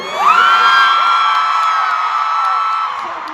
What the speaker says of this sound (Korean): 이 한마디가 나오자 현장에서는 엄청난 함성이 터져 나왔습니다.